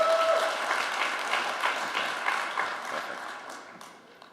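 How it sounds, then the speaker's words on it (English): Audience applause at a closing ceremony for an international anti-corruption conference, a dense steady wash of many hands clapping that fades slightly toward the end. "A big round of applause for them."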